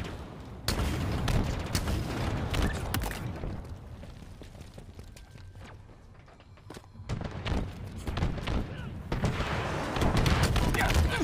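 Artillery strike and gunfire in the video game Halo Infinite, a fusillade of loud booms and sharp shots spread across the span, easing in the middle before picking up again, with game voice lines in the mix.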